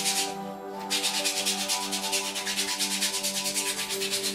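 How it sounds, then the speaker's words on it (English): A foot file rasps back and forth over hard skin on a heel during a pedicure, a close steady scraping in even rhythmic strokes after a brief pause. "Just using one of our foot files."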